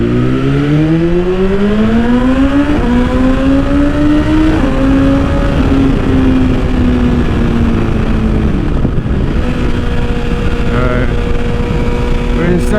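A 2021 BMW S1000RR with an Akrapovic titanium exhaust pulls hard through the gears, its loud, close engine note climbing steadily in pitch, dropping at each shift, then rising again in a continuous roar.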